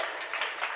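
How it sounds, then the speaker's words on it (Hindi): Brief, faint patter of clapping from an audience listening to a Jain religious discourse, a short scattered burst under a second long. "आप लोगों की तालियों के द्वारा हम समझ लेते हैं कि आपको ये बात समझ में आ गई"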